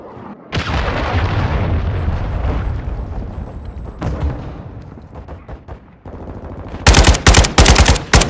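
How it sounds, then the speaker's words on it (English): Cruise missile strike and gunfire in Call of Duty MWII multiplayer: a loud booming blast rolls on for several seconds, followed by sharp bursts of close, rapid gunshots near the end. "Friendly cruise missile inbound."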